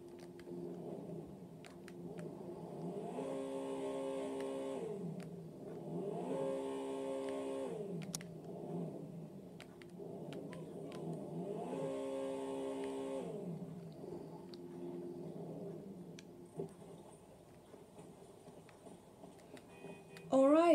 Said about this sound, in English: So let's go ahead and see how she revs.